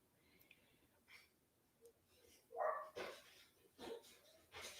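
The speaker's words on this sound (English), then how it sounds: "My dogs are going crazy." Small dogs barking indoors, a few sharp yips and barks spread across the moment, moderately close, with short quiet gaps between them.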